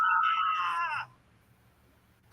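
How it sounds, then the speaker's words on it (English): A high, wavering scream lasting about a second, then near silence before a brief sharp burst at the end. "Who's screaming now?"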